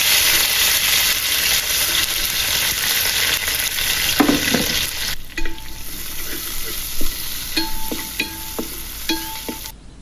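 Onions, mustard seeds, garlic and curry leaves fry in hot oil for a Kerala fish curry, a loud, continuous sizzle with stirring scrapes, easing into softer crackling and clinks of a spoon against the pan.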